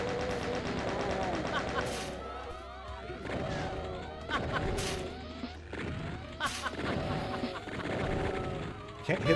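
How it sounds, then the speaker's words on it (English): Video game combat with rapid gunfire bursts and sharp impacts as enemies fire pies at the player, loud and repeated throughout, with a voice talking over the action. "They're shooting pies at me."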